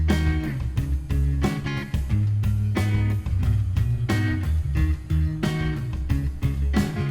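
A full band mix plays steadily, with a driving drum beat, a prominent bass line and electric guitar, no vocals.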